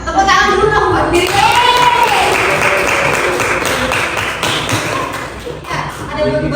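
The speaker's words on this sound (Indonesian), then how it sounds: "Tepuk tangan dulu dong buat diri." Students in a classroom clap for themselves, a short burst of mixed claps and taps layered under a teacher's speaking voice, fairly close and loud, fading out toward the end.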